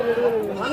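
A goat bleats close by at a rural livestock market, one short wavering cry heard alone.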